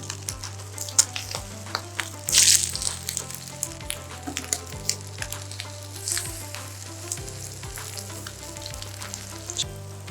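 Chilies fry in hot oil during vada pav preparation, a continuous close sizzle with occasional crackles and light clinks, one brief louder burst of spattering partway through.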